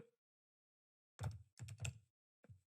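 Several short bursts of typing on a computer keyboard, close and crisp, separated by silence, with a final brief cluster of keystrokes.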